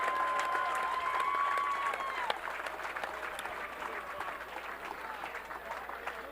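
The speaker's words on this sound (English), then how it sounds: "for a big round of applause for every one of our boxers that participated here this evening." Crowd applause and some cheering for the boxers at an evening amateur boxing event, loud at first and easing slightly, with a sustained tone and a voice heard faintly underneath.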